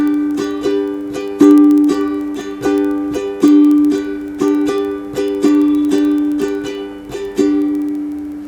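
Ukulele strumming a steady rhythmic pattern for a song, with accented down and up strokes repeating evenly, heard close and alone without talk.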